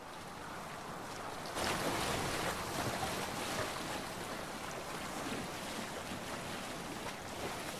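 A Viking longship sailing on open sea in the video game Assassin's Creed Valhalla, with continuous rushing waves and wind that swell a little after the start and then hold steady, with no voices.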